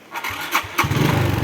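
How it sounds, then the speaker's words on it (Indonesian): A 2007 Honda motorcycle cranks on its electric starter with a couple of short bursts, then the engine catches and settles into a loud, steady close idle with no talking. "Kita coba lagi starter."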